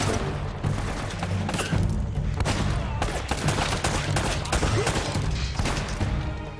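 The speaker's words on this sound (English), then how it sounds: "That's a dude with a shotty, Drake" Shotgun and other gunfire in a firefight in the video game Uncharted: Drake's Fortune, with dense, continuous volleys of booming shots and thuds layered over rumbling game noise for several seconds.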